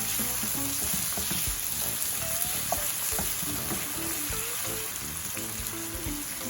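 Onion frying in a pan for a Nigerian meat pie filling gives a loud, steady close sizzle with scattered pops and soft scraping from stirring, no talk over it.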